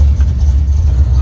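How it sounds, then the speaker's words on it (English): A steady, loud engine drone from the Slow Quest build car out on a highway drive, heard close up and continuous with a low rumble and no talking. "This is the last drive before we load up to leave."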